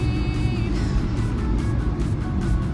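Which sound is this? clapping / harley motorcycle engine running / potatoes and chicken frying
harley motorcycle engine running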